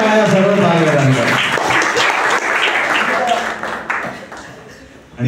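Loud applause from a Ganeshotsav music-night audience honoring the child volunteers, a dense steady clapping that begins at full strength, briefly dips, swells again and tapers toward the end, with some voices mixed in.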